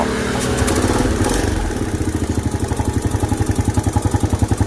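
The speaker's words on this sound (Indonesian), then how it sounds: "ini tinggal kita nyalakan motornya ya" A motorcycle with a history of hard starting, fouling spark plugs, rough running and weak power fires up loudly nearby, then settles into a steady, rhythmic thumping idle.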